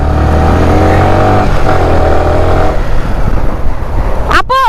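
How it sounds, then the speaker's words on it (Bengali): A Royal Enfield motorcycle engine revving loudly and close with a deep, throbbing exhaust note that rises and falls, then a brief sharp high sweep near the end. "এই প্রথম কোনো মেয়েকে দেখলাম রয়্যাল এনফিল্ড চালাইতেছে। সাউন্ড কি ভাই রে ভাই।"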